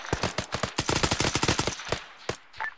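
Sustained machine-gun fire in ARMA 3, a dense run of loud, evenly spaced bursts for about two seconds, then a few isolated shots trailing off.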